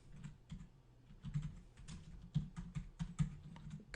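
Computer keyboard typing in bursts of sharp, irregular keystrokes, fairly close and clear, with short pauses between clusters and no talking.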